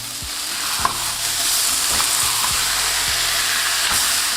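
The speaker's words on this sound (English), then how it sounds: "I'm just going to press it down to get a nice sear on the beef." Beef searing in a hot pan while being pressed down, a steady loud sizzle and frying hiss with scattered pops and soft scraping, close and continuous without talk.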